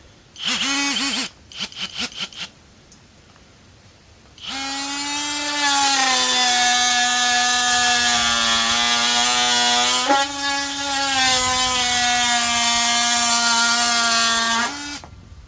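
DeWalt 12V Extreme cordless power tool fitted with a blade, first given a few short trigger bursts, then running at a loud, steady, high-pitched whine for about ten seconds with only a brief dip, close up and without talk.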